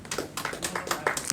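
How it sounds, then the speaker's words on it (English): An audience at a poetry festival gallery breaks into brief applause for a poet, a short burst of scattered claps close by. "a round of applause for"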